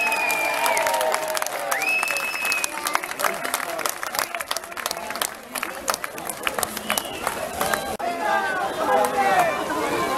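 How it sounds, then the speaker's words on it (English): A crowd applauds and cheers for a homemade boat team at a boat race event, a dense, steady wash of clapping and crowd noise with voices mixed in throughout. "Let's give a big cheer for O'Reilly's, everybody."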